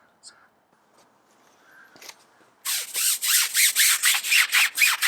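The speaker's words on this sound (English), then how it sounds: "then we're going to scrub the inside of the barrels and see how it comes out" A brush scrubs the inside of dirty car wheel barrels during wheel cleaning, a rhythmic series of loud, close bristle strokes that follows a few quiet taps and small clatters.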